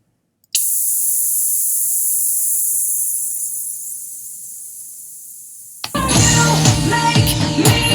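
A white noise sweep made in Pro Tools hisses loudly with its character slowly shifting as it fades, then cuts abruptly into a dense burst of music.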